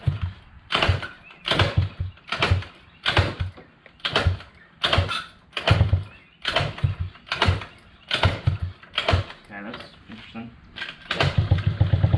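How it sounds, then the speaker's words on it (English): Repeated kickstart attempts on a 50cc GY6 scooter engine that won't run, a steady rhythm of about a dozen loud mechanical kick strokes with brief sputters, close and clear, with a little talk. "So we're gonna kickstart it."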